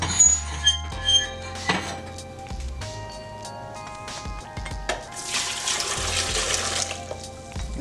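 Hot boiling water, one quart, is poured into a blender, giving a splashing, rushing flow with clinks of glass and a stronger pour toward the end.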